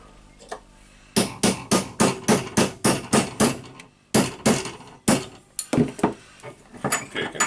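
Repeated sharp metallic strikes of a hand hammer on a punch, disassembling a Makita HR2811F rotary hammer drill, land in a steady, fairly rapid rhythm, close and loud, with a brief pause midway before the blows resume.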